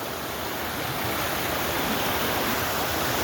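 Heavily flowing creek rapids at Spring Mill State Park, a dense, steady rushing and churning of water, loud and close, with no other sounds.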